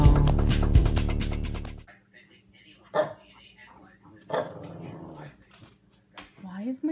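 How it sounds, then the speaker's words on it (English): A pet dog barks at a person sitting at a kitchen counter, giving a quick loud burst of several barks and then a few sharper isolated yips spaced apart, with quieter room sound in the gaps. "If I sit up at my counter, she just barks at me like this."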